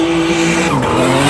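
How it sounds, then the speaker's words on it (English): A turbocharged BMW E36 drift car engine revs hard, a loud continuous rasp with a pitch that dips and climbs, mixed with tire skid noise and no talking. "I actually don't mind the way it sounds on limiter and when it's dosing with the turbo, but throughout the rev range, it doesn't sound the best."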